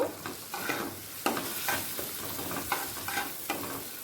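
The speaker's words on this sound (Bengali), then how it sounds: "কাশ্মীরি লঙ্কার গুঁড়োটা দিয়ে একবার ভালো করে মিশিয়ে নেব" Kashmiri chili powder being stirred into a tomato mixture in a pan for a pomfret curry, with repeated scraping strokes of the spoon over a soft sizzle, close and moderately loud, no talking.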